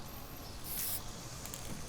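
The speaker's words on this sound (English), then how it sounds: "And after I spray it, I'm gonna let all this dry" An aerosol can of spray shellac lets out a short hissing burst over an antique wooden china cabinet part, heard close against a soft background hiss.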